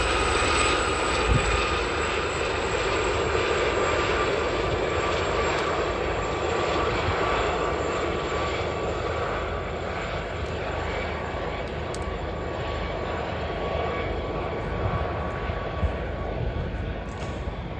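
Army Air Corps Gazelle helicopters flying a formation display at an air show, giving a steady, continuous engine and rotor drone that stays loud throughout without easing.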